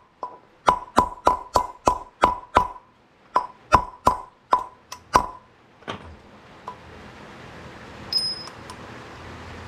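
Wheel bearing being hammered into the hub of a 1981 Harley-Davidson FLH police motorcycle, a rapid series of about fourteen sharp metallic clinks in two bursts, close and loud, then a quiet workshop hum.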